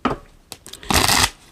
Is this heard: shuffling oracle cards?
yes